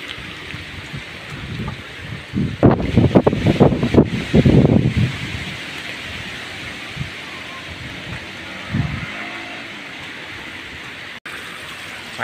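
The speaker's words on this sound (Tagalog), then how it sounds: "Grabe ang lakas ng hangin." Typhoon Kristine drives heavy rain and gusting wind in a steady outdoor roar, with a louder burst of splashing and rattling early on; a voice speaks faintly in places.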